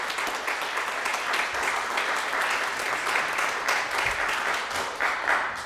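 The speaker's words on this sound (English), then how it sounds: "Big round of applause for Carol." A church congregation applauds a 90th birthday, broad sustained clapping from many hands filling the room steadily for several seconds.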